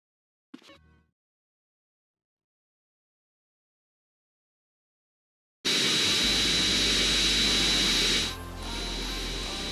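A commercial airliner's jet engines in GTA San Andreas, a sudden loud steady roar with a high whine that kicks in after near silence and dips briefly before holding.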